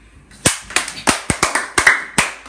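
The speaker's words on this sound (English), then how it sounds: "claps all around" A small group of people clapping after a magic trick at a home magic day, scattered claps in an uneven burst that fades out, close and fairly loud.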